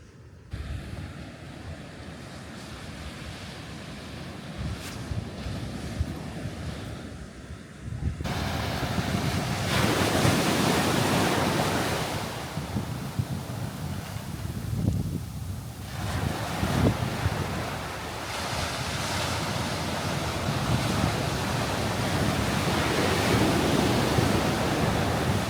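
Ocean waves break on a Big Sur beach along California's coast. The surf rushes in long, swelling washes and strong gusts buffet the microphone, growing louder after a quieter start, with no voices.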